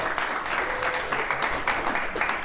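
Studio audience clapping on a daytime talk show, a steady moderate wash of hands throughout the short stretch with no voices over it.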